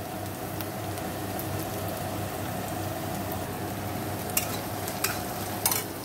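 Crushed ginger and garlic paste sizzles steadily in a hot pan, a dense continuous crackle with a few sharper pops and stirring scrapes near the end; no voices.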